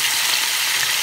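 Fish sizzling steadily in a hot frying pan, a dense continuous crackle of hot oil held close and loud throughout, with no talking.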